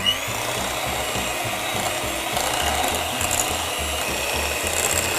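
An electric mixer whirs steadily through cake batter with eggs for a Christmas plum cake, its motor droning close and continuous with a slight rise in intensity midway and no voices.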